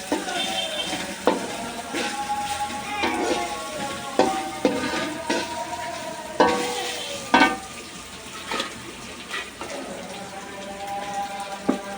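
Hand-minced boiled broiler chicken stirred and frying in a pan for potato tikia kabab, a steady close sizzle broken by scraping stir strokes and occasional clanks.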